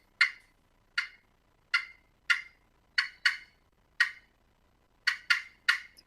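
A series of sharp, short clucks from a turkey slate call, about ten crisp clicks in an uneven rhythm with silence between them.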